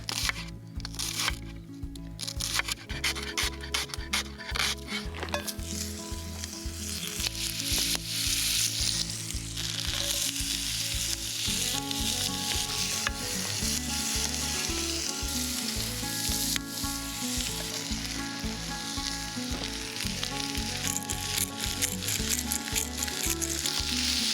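Shallots fry in a pan over an open fire for Thanksgiving gravy, giving a loud, dense, continuous sizzle with crackling pops and occasional stirring throughout, close up and without speech.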